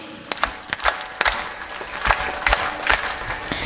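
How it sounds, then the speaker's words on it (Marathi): An audience at a Shiv Katha religious gathering claps in sharp bursts, the claps landing in loose, uneven groups over a roomy background. "आपल्याकडून जर जरा 3-3च्या टाळ्या झाल्या पाहिजे"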